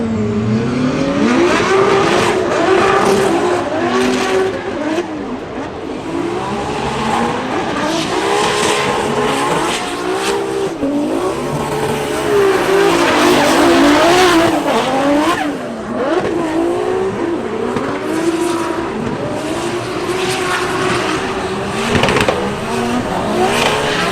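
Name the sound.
Formula Drift car drifting on worn tires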